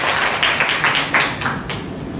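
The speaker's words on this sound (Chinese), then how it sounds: "好，鼓掌。" An audience at a training class clapping together, a dense run of hand claps with slight surges, fairly loud and close, with no talk over it.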